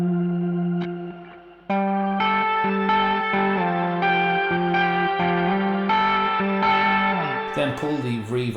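Electric guitar plays a sustained, chorded verse through a Line 6 M5 stompbox modeler with an expression pedal, thick with effects and reverb, steady and loud with no talking.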